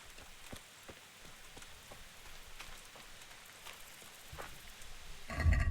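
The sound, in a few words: rain in video game Kingdom Come: Deliverance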